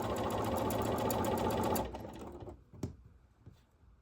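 A sewing machine stitching quilt pieces runs fast and steady at close range, then stops, followed by a few faint clicks and handling noises.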